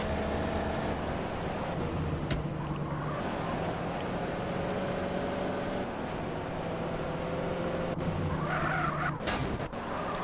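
A car stolen in Grand Theft Auto San Andreas Definitive Edition skids with sustained tire screech over steady engine roar, loud and continuous, with a sharper squeal burst near the end.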